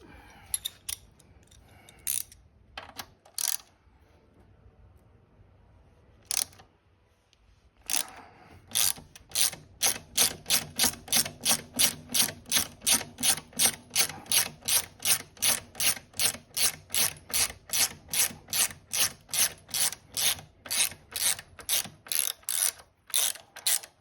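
A ratchet loosens an 8mm bolt on a motorcycle shock mount: a few scattered clicks, then a long, steady run of close, sharp ratcheting strokes in even rhythm.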